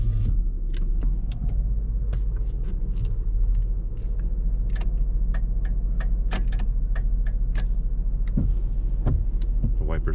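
Power windows on a 2001 Buick LeSabre Custom run down with a steady, close electric whir over a low idling rumble, punctuated by small ticks and clicks.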